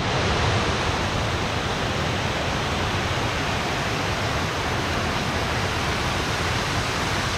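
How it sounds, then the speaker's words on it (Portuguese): Small waterfalls on the São Jorge river pour in a constant, dense rush of water, loud and close with no pauses. "dá para sentar aí embaixo dessas cachoeirinhas aqui e ficar azedando"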